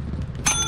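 An item bell rings once in Lethal Company, a bright metallic ding with sustained ringing overtones that cuts in sharply over a low game rumble, close and fairly loud.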